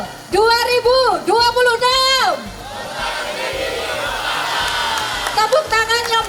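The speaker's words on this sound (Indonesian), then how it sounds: "Tepuk tangan yang begitu luar biasa meriah." Crowd at the Festival Musik Patrol 2026 in Indonesia, a traditional kentongan and beduk music event. Loud chanting shouts from many voices give way to a sustained roar of applause and cheering, with more shouts rising again at the end.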